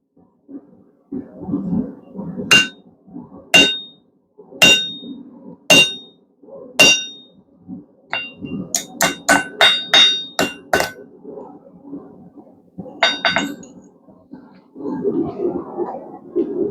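A blacksmith hammers a slitting chisel through hot steel, ringing metallic strikes first in slow single blows and then in a faster burst, loud and close over a low forge roar.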